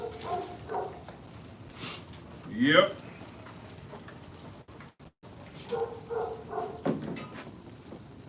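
Dogs whimper and give short yips and barks indoors, close by, mixed with jangling and shuffling. Someone talks briefly over them.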